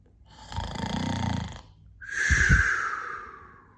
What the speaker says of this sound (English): Then they heard a snore.